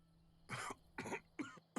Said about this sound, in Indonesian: Ya, batuk.